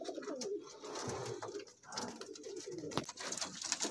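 Pigeons coo repeatedly in a loft of golden teddy cross birds, soft throaty calls layered over constant low chatter and shuffling from the flock, close and steady throughout.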